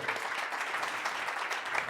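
An audience at a Korean entrepreneurship dialogue event claps to welcome the panelists, a dense and even burst of applause that is moderately loud and fills the moment with little else.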